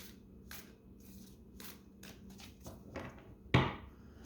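Tarot cards being shuffled during a reading, soft papery riffles and shuffles in quiet bursts, ending with one sharper, louder slap of the deck near the end.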